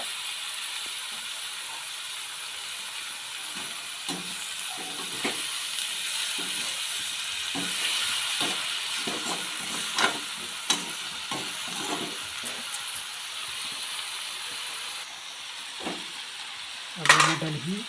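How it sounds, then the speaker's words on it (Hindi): Tomatoes sizzle steadily as they fry with vegetables in a home kitchen pan, with scattered scraping stirs throughout and a louder clatter near the end. "टमाटर डाल रहे सब्जी में"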